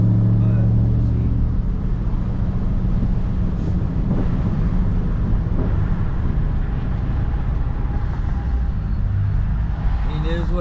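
Car engine fitted with aftermarket cams idling outdoors, a steady loud low rumble with a slightly lopey pulse, roughened by wind buffeting the microphone throughout.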